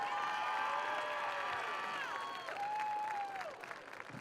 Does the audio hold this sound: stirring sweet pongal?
no